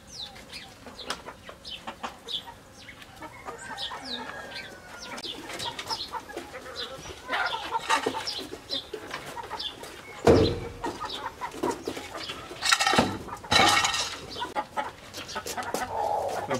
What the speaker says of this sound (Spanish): Ese es el gallo.